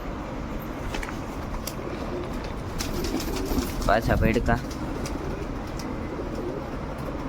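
Wild pigeons coo close by in repeated low, throaty phrases, clearest midway, over outdoor background noise while a person speaks.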